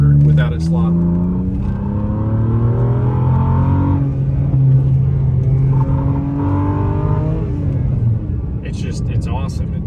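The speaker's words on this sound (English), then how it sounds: "So now we're going to go back up, and you'll really be able to tell how good it'll come out of a corner without it sliding." A BMW 528i with 200,000 miles is driven hard through track corners. From inside, its engine drones loud and close, its pitch climbing as it pulls out of a bend, then easing off near the end.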